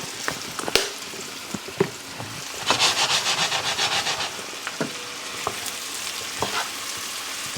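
Mushrooms sautéing in a pan with coarse 16-mesh black pepper, a steady soft sizzle broken by scattered utensil scrapes and taps, with a louder rhythmic stirring burst near the middle; no talking.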